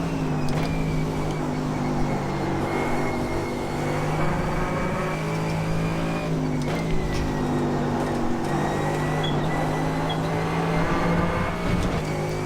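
Mercedes GT3 race car engine in iRacing heard from the cockpit over a full lap segment, a loud continuous drone that rises and drops through gear changes and braking, steady and close with no talk.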